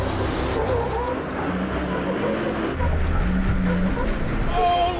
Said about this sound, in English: Oh, a lot of scrabbling, but he's done it.